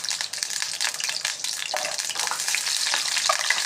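Whole shallots and garlic frying in hot oil for a peanut tamarind curry, a steady close sizzle with light stirring scrapes throughout, no voices.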